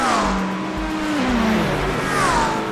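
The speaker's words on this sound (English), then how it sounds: "As expected, the Mustang surges past the Aston Martin." A Ford Mustang race car in the iRacing sim roars steadily past an Aston Martin, its loud engine note climbing and shifting with pitch sweeps as the two cars pass, with no pauses.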